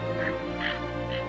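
Ducks quacking in a regional wetland where wild water birds share summer grazing grounds with livestock; three short nasal calls at a moderate distance over a steady, loud background hum.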